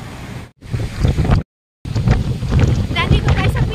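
Strong gusting wind buffets the microphone at a rocky clifftop above heavy ocean waves on the Northern Ireland coast, a loud rumbling roar broken by a couple of sudden cut-outs, with someone talking over it.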